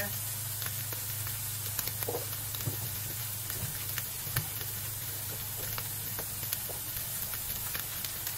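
Shredded chicken sautéing in a pan gives a steady, close sizzle with faint stirring scrapes and a low hum underneath, continuous throughout.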